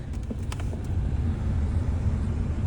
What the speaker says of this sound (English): I'm gonna go ahead and rev her up a little bit